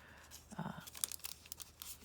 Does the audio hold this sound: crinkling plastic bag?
yes